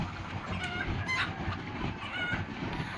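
Chickens clucking in a farmyard, a steady chatter of several birds over a dense low rumble, moderately loud and continuous for about three seconds, with no talking.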